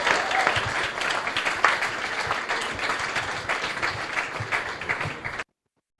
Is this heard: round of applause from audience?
yes